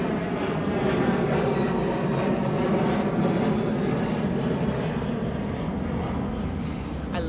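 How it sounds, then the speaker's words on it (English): An airplane flies low overhead near an airport, a loud continuous engine roar that holds steady and then begins to fade toward the end. "I have a lot of planes flying above my head"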